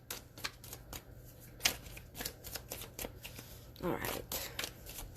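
Tarot cards are shuffled in a rapid series of crisp riffling snaps and flutters, close and fairly quiet, while a voice speaks briefly over them.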